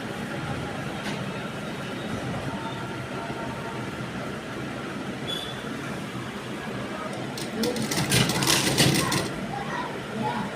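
A sewing machine stitches fabric onto a churidar round neckline, giving a close, rapid, steady mechanical whirr that grows louder and busier near the end.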